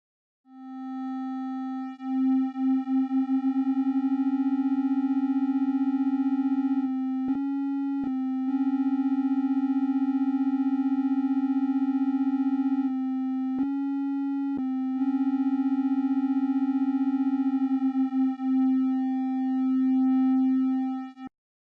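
Detuned oscillators on a Korg MonoPoly synth hold a steady, loud sustained tone whose slow beating swells throughout, with a few brief pitch shifts and short dropouts, no voices.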